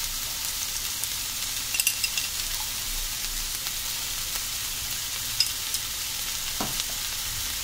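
Vegetables stir-fry in a pan with Schezwan sauce for veg American chopsuey, a constant close sizzle with faint scraping and stirring, no talk over it.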